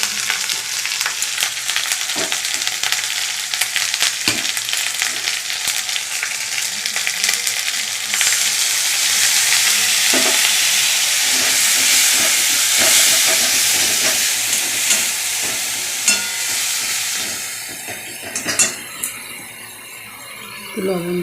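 Ginger frying in oil with chili powder, turmeric and ground coriander-cumin for a Bengali chickpea curry gives a loud, continuous sizzle with stirring clatter, while someone talks over the cooking.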